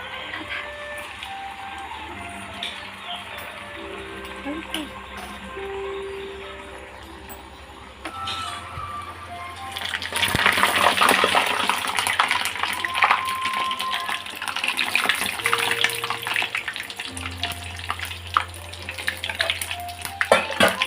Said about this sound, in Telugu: ఈ బైట్స్ బాగా ఫ్రై అవ్వాలి.